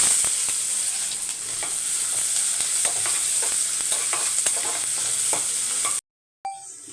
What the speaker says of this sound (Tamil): கால் ஸ்பூனுக்கும் கம்மியாக கடுகு போட்டிருக்கேன் நல்லா பொறிஞ்சு வந்தோடனே கருவேப்பிலை